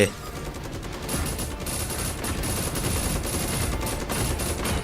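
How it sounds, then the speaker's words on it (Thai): Gunfire in a PUBG-style online shooter game, a dense, continuous fusillade of rapid automatic shots close by, with a voice briefly audible. "ใครยิงมาวะตุ้ม"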